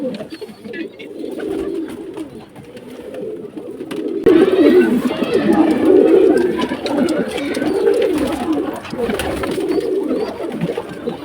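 A pigeon coos in soft, repeated low calls throughout, growing louder midway and continuing steadily to the end, close by with some light handling noise.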